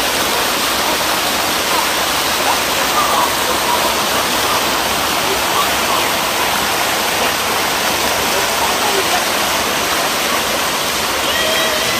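Loud, constant roar of a waterfall, water rushing steadily with no breaks throughout.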